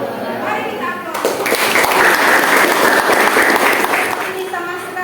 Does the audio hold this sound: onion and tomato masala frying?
no